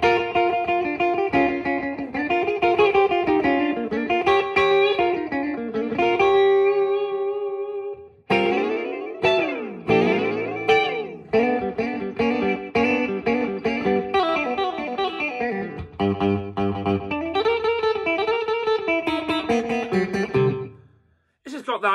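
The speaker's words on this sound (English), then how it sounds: "And then this is the middle position." A 1954 Fender Telecaster electric guitar on its middle pickup position plays a loose run of chords and single-note lines for about twenty seconds, with a brief pause midway, then stops abruptly.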